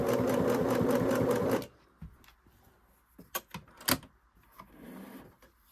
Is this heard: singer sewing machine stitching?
yes